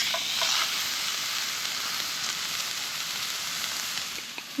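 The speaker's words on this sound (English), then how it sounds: "Can you hear that? Sizzling." A salted slab of beef sizzles in a pan over an outdoor cooking setup, a steady close crackling hiss with no voices, ending in a faint knock.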